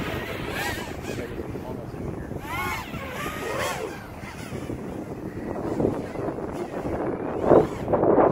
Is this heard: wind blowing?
yes